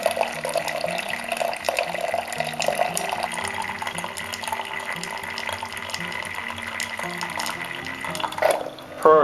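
Keurig coffee maker dispensing a large cup of about 300 ml, a steady trickling pour close by with a soft hiss and gurgle that swells and sputters near the end, over quiet background music.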